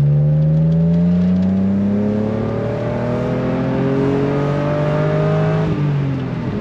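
A BMW 328i E36 convertible with a 2.8-litre petrol engine revs hard toward the redline, its rising engine note climbing steadily for several seconds before a brief dip as a gear changes, loud and close throughout with no talk.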